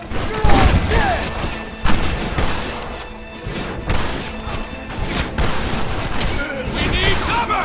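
Gunfire rattles through a shootout in the Red Dead Redemption video game, with loud repeated shots, thuds and booms going off in uneven bursts while voices shout over the fighting.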